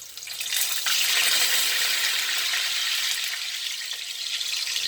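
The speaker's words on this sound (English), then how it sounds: "I'm gonna go ahead start frying the Bammy" Bammy, a cassava flatbread, frying in hot oil for a Jamaican saltfish cook-up: a steady, bright hiss of bubbling oil that swells quickly and continues evenly for several seconds, with no talking.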